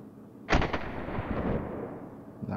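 A PP-19 Bizon or Calico M100 replica gun fires a single sharp shot at close range, followed by a brief decaying rumble and a faint click near the end.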